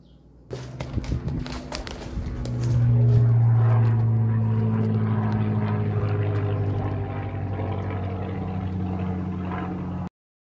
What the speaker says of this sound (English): getting distracted by a Spitfire doing loop-the-loops over the top of our workshop